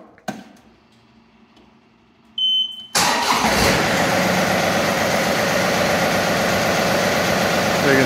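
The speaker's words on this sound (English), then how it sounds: "the tractor's been running a bit and I've been using the loader" A tractor fitted with a loader and a HydrosPlus 2R3E performance kit starts up and settles into a steady, loud, close idle after a quiet stretch with a brief electronic beep.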